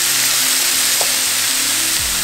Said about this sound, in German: Jetzt mit Sojasauce ablöschen.